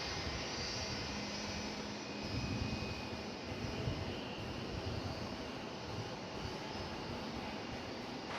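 A Boeing 757 jet airliner at DFW Airport at night gives off a continuous broad engine roar at a moderate distance, steady throughout with no speech.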